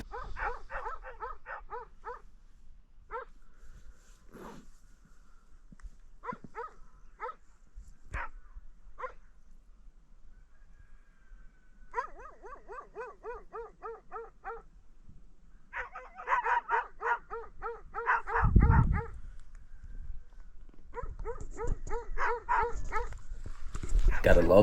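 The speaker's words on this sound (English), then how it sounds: "Spent the whole night getting barked at by dogs from every direction." Dogs barking at night near a bikepacking campsite in the Balkans, bursts of rapid yapping barks and whimpers that come and go, fairly distant, with a low thump near the end.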